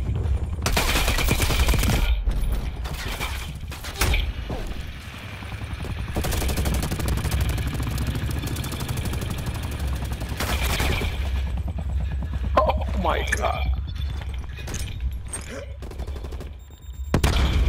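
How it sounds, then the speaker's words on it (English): Bursts of automatic gunfire from Call of Duty Cold War hammer through a rock, loud close volleys in clustered bursts, with a few faint voices under the shooting. "This is shooting through a rock, yo, what the fuck?"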